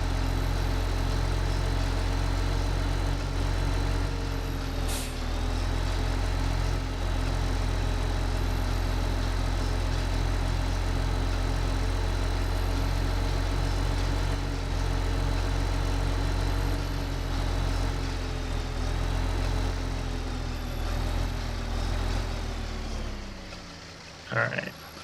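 Small tractor engine in Farming Simulator 15, a steady droning hum at constant revs for most of the clip, then fading out near the end with a few clunks.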